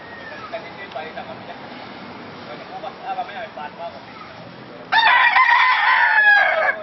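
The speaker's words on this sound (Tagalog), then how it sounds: "nag-aalaga ng manok, nag-aano ng manok dito sa Kuya Francis." A rooster crows loudly near the end, following scattered clucking from chickens and faint talk in the background.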